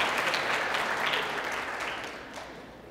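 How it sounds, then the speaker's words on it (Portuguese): An audience in a church applauds with a dense, continuous clatter of clapping that slowly tapers off over a few seconds, with no voices on top. "uma salva de palmas para o nosso especialista aqui"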